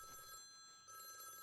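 A telephone ringing indoors in a home during a Tamil film scene: a faint, steady electronic ring that breaks briefly, then resumes.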